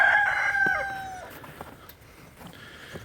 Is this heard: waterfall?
no